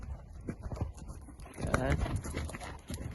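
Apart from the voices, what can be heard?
horse hooves while cantering in circles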